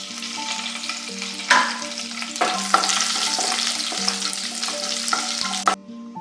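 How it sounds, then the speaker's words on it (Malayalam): Crushed garlic, dried chilli and curry leaves fry in hot oil with cumin, a loud close sizzle with spatters and spoon scrapes under a steady low hum, ending abruptly. "ജീരകം ഇട്ടതൊക്കെ മൂത്ത് വരുമ്പോൾ നമുക്കതിലേക്ക് രണ്ട് മൂന്ന് അല്ലി വെളുത്തുള്ളി ചതച്ചതും വറ്റൽ മുളകും ഇട്ട് കൊടുക്കാം കുറച്ച് കറിവേപ്പില ഇട്ട് കൊടുക്കാം"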